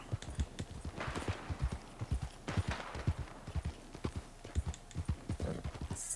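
Galloping horse hooves in Red Dead Redemption 2 beat out a steady, quick clip-clop rhythm of close, distinct thuds that carry through the whole ride without talk.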